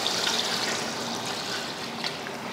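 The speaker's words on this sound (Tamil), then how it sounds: "இந்த டைமில் தண்ணி சேர்த்துருவோம்." Continuous splashing gush of water poured into a pot of measured rice for chicken dum biryani, steady and close for a couple of seconds.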